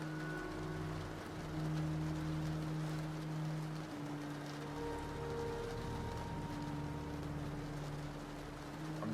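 Pouring rain falls in a steady, dense hiss outdoors, continuous throughout with faint low tonal hum mixed underneath.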